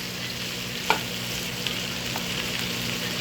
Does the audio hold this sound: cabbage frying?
yes